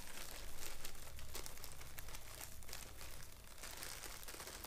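Plastic packaging crinkling and rustling as packaged model trees for an HO scale layout are carefully unwrapped, a steady close crackle with no voices.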